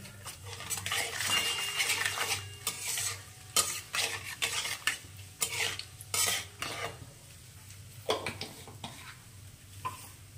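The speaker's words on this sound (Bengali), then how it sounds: "এবারে দিয়ে দেবো ছোট চামচের 1 টিস্পুন একটু আস্ত জিরে।" Whole cumin seeds sizzling in hot oil for a Bengali vegetable bhuna khichuri, a steady frying hiss broken by frequent clinks and scrapes of a spoon stirring in the pan, with no talk.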